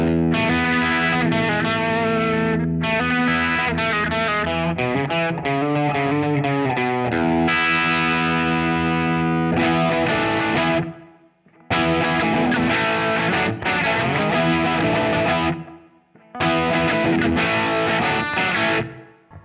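An electric guitar lick runs through a Strymon Deco tape saturation pedal, compressed and smooth with distorted sustained notes and quick runs, in phrases broken by short silences.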